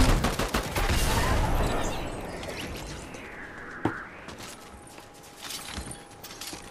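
Video game gunfire rattles in a loud burst of rapid shots, then continues in scattered, fading reports with a sharp single crack partway through.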